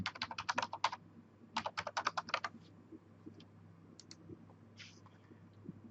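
Password typed on a computer keyboard during an Active Directory user login: two quick bursts of crisp, close keystroke clicks, then a few scattered taps against a quiet room hum.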